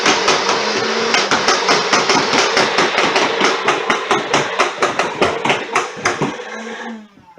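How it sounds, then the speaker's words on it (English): A toy foam blaster with a hopper fires full auto, a rapid, loud mechanical rattle of evenly spaced shots running for about seven seconds before winding down and stopping. "full auto foam blasting madness."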